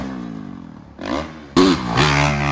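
A brand-new dirt bike at a hill jam revs sharply, climbing in loud, close bursts of rising engine pitch with no talking over it.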